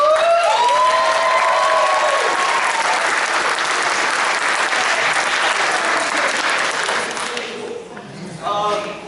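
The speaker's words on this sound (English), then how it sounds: "let's give a big round of applause to who else is coming up, the moderator, Jared" Convention panel audience at Pensacon 2020 breaks into loud, sustained applause and cheering with whoops, filling the room near and dense before tapering off toward the end.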